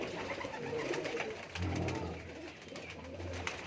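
Pigeons flown from a village rooftop in Ladwana, Nankana Sahib, with fluttering wingbeats and soft cooing in a steady, close-up bird din that carries through the whole stretch.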